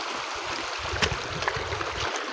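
Water flowing in a stream at an outdoor spot, a steady rushing wash with a few brief louder splashes, heard close and alone.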